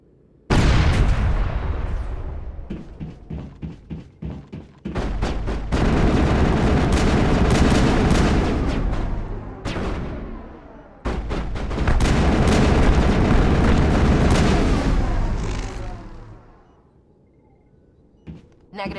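Heavy grenade blasts and sustained gunfire in a Mass Effect firefight, long loud booming bursts separated by brief lulls, ending in a fading rumble.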